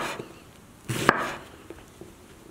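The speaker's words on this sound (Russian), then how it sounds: "И вот так прямо мелко-мелко нарезаем" A knife strikes a cutting board while finely chopping eggplant, a few scattered soft taps around one firmer, louder cut, close by with no talk.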